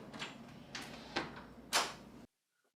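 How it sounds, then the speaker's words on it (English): A hotel room door is shoved inward against a rubber wedge doorstop on carpet, giving several scraping, thudding pushes that build to a final louder jolt before cutting to silence. "I'm going to let Joe push the door in"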